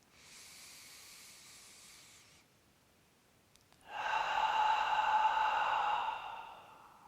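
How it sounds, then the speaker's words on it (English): A long, deep exhale through the body during a yin yoga session, a broad breathy hiss that swells loud after a quieter breath in, then fades away, with no talking. "Last big breath."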